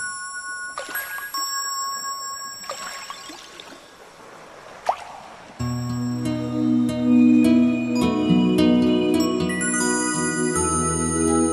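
Cartoon water drips and plops from a goldfish splashing in the sea, a few light watery blips in the first half before a bright, busy music score takes over and plays loudly to the end.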